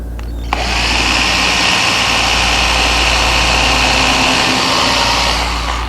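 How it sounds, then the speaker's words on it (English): A power drill pre-drills a nail hole in wood for a hanging cupboard, starting with a click and then holding a loud, steady high whine for several seconds without any voices. "just a little pre-drill here"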